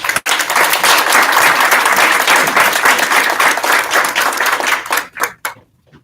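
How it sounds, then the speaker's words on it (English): Audience applause welcoming an ambassador at a morning event in a Mexican consulate, dense, loud, sustained clapping that fades into scattered claps and stops near the end. "please give an applause for our welcome from the Ambassador Alejandro Madrigal"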